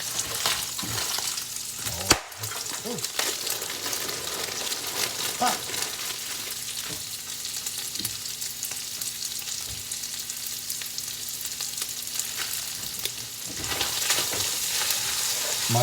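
Onion and cauliflower frying in a pot for a keto zuppa toscana make a steady, dense sizzle and crackle throughout, with a few louder pops and stirring knocks and no clear talk.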